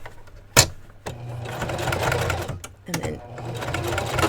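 Sewing machine stitching a small Barbie doll dress, running in short bursts with a sharp clack between runs and a brief pause as the stitch is locked, while a voice speaks briefly over it.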